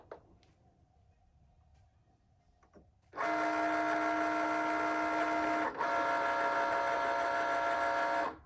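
A Cricut Maker cutting machine scoring a card with the scoring stylus, a steady loud whirring motor hum that starts abruptly after a quiet stretch and runs continuously with one brief dip.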